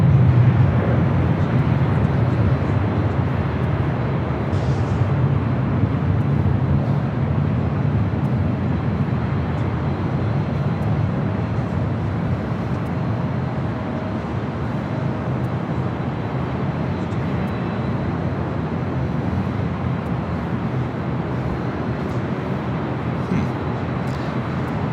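An airliner takes off at LAX airport, a steady loud jet roar with deep rumble that holds for the whole stretch, heard from a distance over outdoor ambience.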